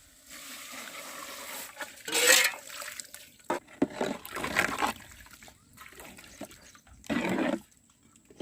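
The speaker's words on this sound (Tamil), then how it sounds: "தண்ணி ஊற்றிக்கலாம்." Water poured into a pot of duck biryani along with spices, yogurt and duck meat, heard as several uneven splashing gushes with quieter pauses in between, close by and with no talk.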